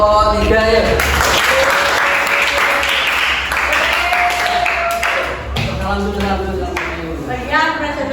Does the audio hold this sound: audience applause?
yes